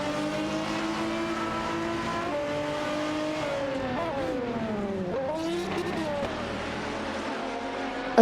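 Race cars in a racing video game, a Porsche Carrera GTR and an Aston Martin DBR9, drone with steady engine notes that climb and dip as they shift, with a brief tire squeal partway through. No one speaks.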